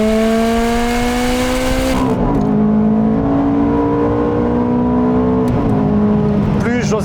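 Ferrari F430 engine pulling hard, a loud strained tone climbing steadily, then a short dip as a gear changes before it climbs again, with another shift near the end and a roaring cabin background.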